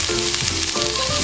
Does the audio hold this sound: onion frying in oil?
yes